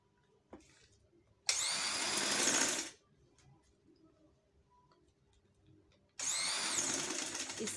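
A sewing machine stitches a sleeve in two loud, fast whirring bursts, the first lasting about a second and a half and the second starting near the end, with near-silence between them.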